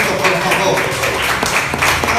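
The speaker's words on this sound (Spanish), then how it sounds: "Dale ese aplauso a Cristo, por favor." A church congregation claps for Christ, a dense, sustained wash of applause with voices and shouts blended into the steady clatter.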